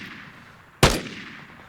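A single loud rifle shot in the video game Vigor cracks sharply over a quiet ambient background, then decays quickly.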